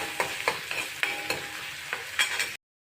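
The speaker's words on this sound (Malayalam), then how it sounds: "മുമ്പേ അരിഞ്ഞു വെച്ചിരിക്കുന്ന ഇഞ്ചിയും വെളുത്തുള്ള വാരി എടുത്ത് ഇതിൻ്റെ അകത്തോട്ട് ഇടുക" Chopped ginger and garlic sizzle in hot coconut oil inside an aluminium pot while a spoon stirs them, scraping at an uneven rhythm over a steady frying hiss. Close and fairly loud, with no voices.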